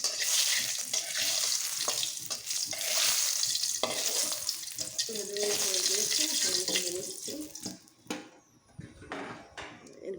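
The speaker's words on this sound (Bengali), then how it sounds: "শুকনো লঙ্কাগুলোকে আগে একটু ভেজে নেব" Six dried red chillies fry in oil in a pan, making a busy crackling sizzle with stirring scrapes that thin out toward the end, and a voice speaks briefly over it.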